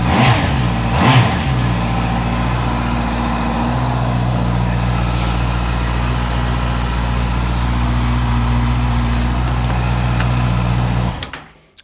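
A 2019 Honda CB650R motorcycle engine runs close by at a steady idle after a couple of quick revs at the start, then cuts off abruptly at the end.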